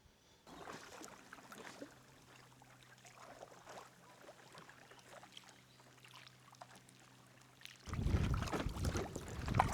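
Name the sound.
paddling a kayak or canoe on water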